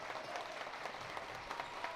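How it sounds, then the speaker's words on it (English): A basketball crowd in a school gym at a Rice Lake versus Onalaska sectional final claps and cheers in a faint, distant, continuous wash of applause. "as the Onalaska crowd comes alive"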